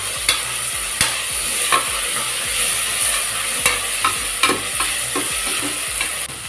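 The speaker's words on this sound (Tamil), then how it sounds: "தக்காளியை நல்லா வதக்கிட்டு அப்புறம் மட்டன் சேர்க்கணும்" Steady sizzling of tomatoes sautéing in a pan, with a utensil repeatedly scraping and stirring at an uneven rhythm, close up and fairly loud.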